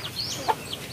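Farm chickens kept in a small mini-farm give a single short cluck against a quiet outdoor background, with faint bird chirps nearby.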